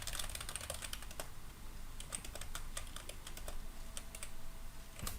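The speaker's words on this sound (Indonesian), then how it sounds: "jadi langsung aja diketik" Steady, rapid typing on a computer keyboard, with dense clicking keystrokes running throughout over a constant background hiss, close by and without speech.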